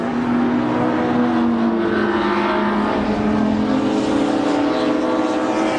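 Race cars including a Mazda RX8 Turbo at Brands Hatch circuit, engines roaring loudly and continuously as they power through Clearways onto the Brabham Straight, a sustained droning blare without pauses.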